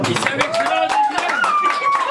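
An audience claps in rhythm at a 60th jubilee celebration, the sharp hand claps steady and close against a sung Kazakh melody with dombra, while voices carry through.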